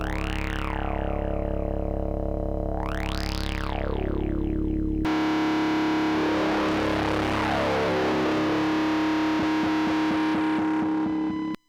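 Guitar run through a Fuzzbillion distortion pedal, starting with sweeping, wobbling synth-like fuzz tones, then a dense, buzzing sustained distorted note with rapid stuttering pulses, loud and unbroken until a sudden stop.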